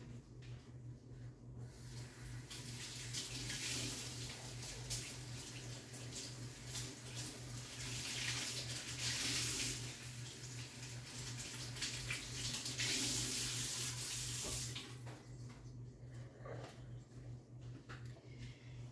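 Tap water runs into a sink to rinse a washcloth, a steady, soft hiss and splash with a low hum beneath, swelling and easing as the cloth is worked under the stream.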